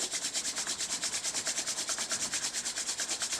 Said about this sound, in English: Now rub the palms, generate heat.